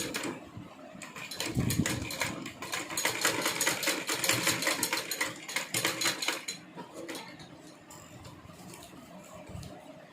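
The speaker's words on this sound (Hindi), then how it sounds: "मैं इस पर एक एक सिलाई और लगा लूंगी इसी के ऊपर ही।" A sewing machine stitches a small dress for a Laddu Gopal figure, running in rapid mechanical bursts that speed up, slow and pause, close by and with no talking.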